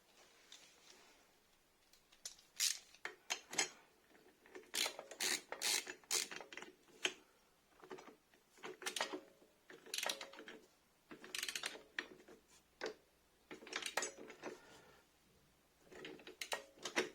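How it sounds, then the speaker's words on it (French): A scooter variator being screwed back on, heard as close, crisp mechanical clicks and ratcheting bursts in irregular clusters with short pauses between them. "Et ensuite on peut visser le vario."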